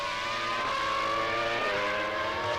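A 1998 Formula 1 race car at the Spanish Grand Prix, a high-pitched screaming engine note held loud and steady with shifting revs, up close throughout.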